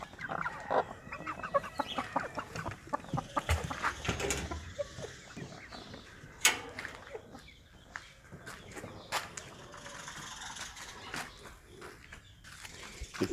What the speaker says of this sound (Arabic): ديوك شامورت وبرابر فلاحي جميلة